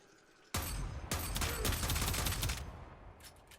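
Telos Akbolto pistol from the shooter game Warframe firing in rapid bursts, two sharp onsets leading into a dense, sustained stream of loud shots for about two seconds, then fading to a few faint clicks.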